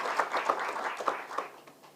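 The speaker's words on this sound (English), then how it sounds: "Please clap for them." Applause for Athletics Kenya officials in a gathered audience, a moderate patter of scattered claps with a few sharper hand strikes, fading toward the end.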